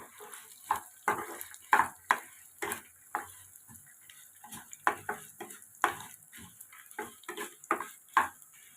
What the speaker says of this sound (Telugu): మెంతులు అలాగే కొంచెం జీలకర్ర అలాగే కొంచెం ఆవాలు వేసుకొని బాగా ఫ్రై చేసుకోవాలి